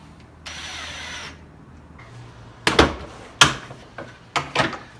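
Close power drill driving pocket screws into a wooden screen door frame: a short whirring burst, then several sharp bangs and brief knocks of the bit and wood, with no talk.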